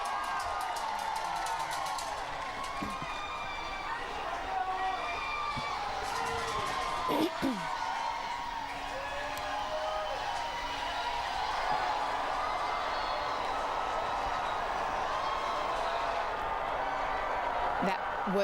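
A large crowd cheers wildly along Gay Street in downtown Knoxville as the Tennessee baseball team's championship celebration parade passes. The roar is loud and sustained, with whoops and whistles throughout and talk underneath.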